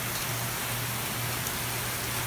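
Steady rain falling outdoors as Hurricane Irma hits Altamonte Springs, a continuous even hiss of drops with a low hum underneath, moderately loud and without any voices.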